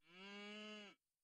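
A cartoon cow gives a single loud, sustained moo lasting about a second, rich and harmonic, then it cuts off into near silence.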